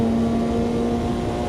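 A high-pitched historic Formula 1 car engine in Automobilista 2 drones steadily at constant revs, a loud, continuous tonal whine with no voices.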